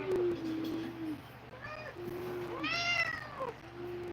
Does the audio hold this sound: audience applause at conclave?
no